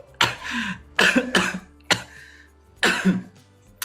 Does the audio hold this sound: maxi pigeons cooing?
no